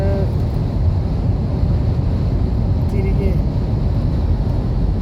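Strong wind buffets the microphone in a constant low roar, with a brief spoken word partway through.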